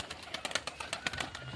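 Giribaz pigeons in a loft give soft, close cooing and rustling in a quick irregular series of short murmurs, quiet and alone, with no talk.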